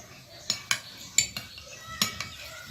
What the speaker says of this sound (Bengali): এই গ্রিন টিটি এভাবে আমি নেড়ে নিচ্ছি একটি চামচ দিয়ে